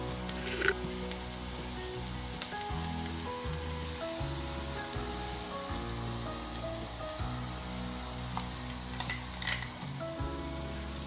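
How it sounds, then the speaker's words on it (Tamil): Chopped and ground mango ginger fries in oil with mustard seeds and dried chili for a pickle, a soft, steady, rain-like sizzle at low volume with a few faint crackles and no voices. "இப்போ நம்ம வெட்டி வச்சுருக்கிற மா இஞ்சியும் நம்ம கிரைண்ட் பண்ணி வச்சுருக்கிற மா இஞ்சியும் சேர்த்து நல்லா இதில் ஃப்ரை பண்ண போகிறோம் எண்ணெயில்"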